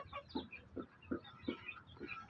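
Native backyard chickens clucking softly in a steady series of short, evenly spaced clucks, heard fairly close but quiet.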